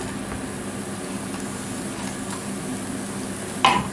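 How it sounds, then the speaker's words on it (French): Onions fry in hot oil in a pan, giving a steady soft hiss and sizzle throughout, with a brief clink of a utensil near the end. "Je vais mettre mes oignons dans mon huile chaude."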